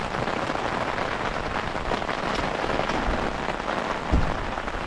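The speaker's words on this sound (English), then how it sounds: "Nice rainy Sunday." Steady rain falling on a rainy Sunday around parked cabover semi trucks, a dense continuous patter close by with a faint low rumble near the end.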